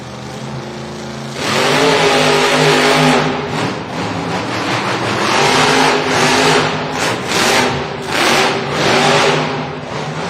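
The El Toro Loco monster truck's big engine revs hard at a Monster Jam stadium show, a loud, throaty roar that surges and dips in repeated bursts after a quieter start.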